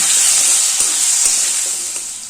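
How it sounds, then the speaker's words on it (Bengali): Potatoes fry in a little oil with a pinch of turmeric over a high gas flame for a winter vegetable chorchori, giving a loud, steady sizzle with faint stirring scrapes throughout. "গ্যাসের ফ্লেমটা হাইতে দিয়ে দুই তিন মিনিট আলুটা ভেজে নেব অল্প করে একটু হলুদ দিয়ে দিলাম"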